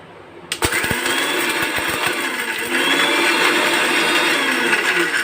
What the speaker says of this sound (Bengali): এবার আমরা ঢাকনা লাগিয়ে হালকা করে গ্লাইন্ড করে